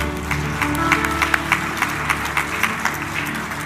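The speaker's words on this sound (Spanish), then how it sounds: "Démosle un fuerte aplauso al Señor." A church congregation claps steadily, in rhythm, with sustained music tones underneath.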